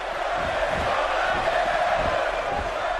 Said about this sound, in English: the crowd seemed to have their favour in Bray Wyatt